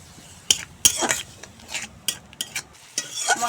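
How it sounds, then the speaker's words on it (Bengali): Cumin powder, salt and other spices sautéed with a little water in a pan for a papaya and egg dish: a spoon scrapes and knocks the pan in irregular strokes, close and fairly loud, over a soft sizzle. "জল দিয়ে এখন মশলা ভালো করে কষিয়ে নেব।"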